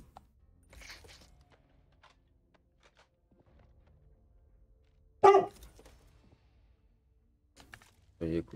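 A dog barks in a few short, sharp bursts separated by quiet stretches, close and fairly loud, with faint speech in between.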